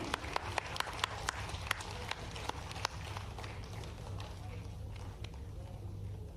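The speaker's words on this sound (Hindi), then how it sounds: "इनका हौसला अफजाई के लिए तालियां बजनी चाहिए।" Faint, scattered clapping at a Bhopal government event for people with disabilities: a few sharp claps stand out early, then thin out over a steady low hum.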